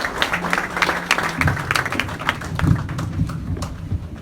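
A church congregation applauds the Lord at a service, with steady close clapping plus scattered thumps and faint voices mixed in throughout.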